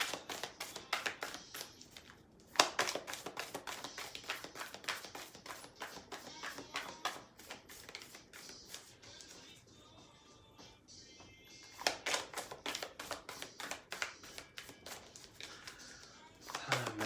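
Oracle cards are shuffled in rapid, crisp riffling taps that run in repeated bursts with short pauses, close and fairly quiet.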